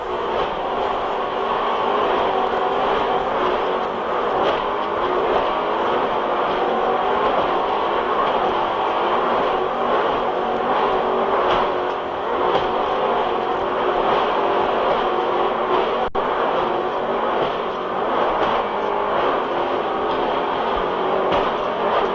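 Racing powerboat engine at throttle on Lake Michigan during the 1997 Chicago Offshore Challenge: a steady, loud, continuous engine roar with a constant rushing drone and no letup throughout.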